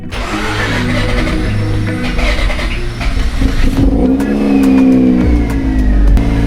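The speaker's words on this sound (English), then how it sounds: "Okay, RX-8 starts." A Mazda RX-8 rotary engine, idle for five years, cranks and catches, then runs loud and close with rising revs and a rough, buzzing idle.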